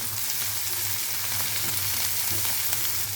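Onion sizzling in a pan with green peas and chopped coriander for red poha, a steady, even frying hiss heard close up, with a soft low rumble underneath and no one speaking.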